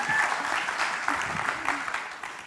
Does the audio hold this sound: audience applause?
yes